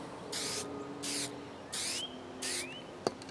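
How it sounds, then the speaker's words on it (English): Four short bursts of spray paint from an aerosol can coating a homemade fishing spoon, each hiss lasting about a third of a second with brief pauses between, close and steady, followed by a small click at the end. "Spray before you get to it"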